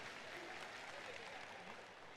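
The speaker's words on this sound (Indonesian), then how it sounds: "Oke, tepuk tangan buat kita semuanya." An audience at a motivational seminar claps together in a dense, continuous wash of applause, fairly faint and even throughout the short stretch.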